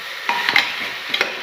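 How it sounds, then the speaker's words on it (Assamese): Chicken pulao is stirred as it fries in a pot: a few quick scraping strokes of the spoon over a soft, continuous sizzle, close by and with no voices. "অলপ সময় লৰাই থাকিম এনেকৈ"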